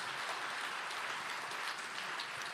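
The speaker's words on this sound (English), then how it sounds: "give a great round of applause to this fabulous panel" An audience applauds a panel at an education summit, a dense, even wash of clapping that holds steady for the whole stretch, heard from a middle distance with no talking.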